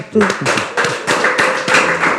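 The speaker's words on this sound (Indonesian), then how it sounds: "Tepuk tangan baru dak." Studio audience on an Indonesian Islamic talk show gives a short burst of hand clapping, several loud close claps in an uneven rhythm over about two seconds, with voices murmuring underneath.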